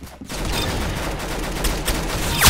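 Sustained gunshots in the Arsenal online shooter video game, a busy, continuous fusillade of layered shots at moderate level, with no voices.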